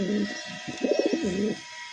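Large, lively pigeons offered for sale in a pair cage coo repeatedly up close, a run of rolling, throaty coos that swells in the middle and then fades, with no talking.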